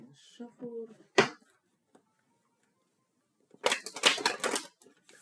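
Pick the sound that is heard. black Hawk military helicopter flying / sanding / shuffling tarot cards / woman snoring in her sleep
shuffling tarot cards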